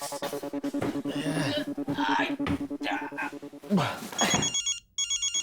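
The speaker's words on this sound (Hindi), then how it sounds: "मेरा फोन बज रहा है" A telephone rings with a steady repeating electronic trill throughout, while people talk nearby over it.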